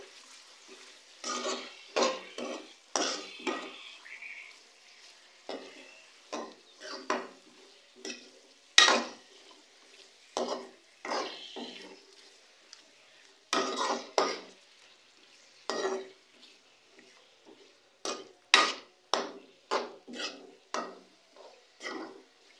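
Chicken being stirred and mixed in a pan for bhuna chicken: repeated sharp scrapes and clatters of a spatula against metal in irregular bursts, close and distinct over faint sizzling, with no talking.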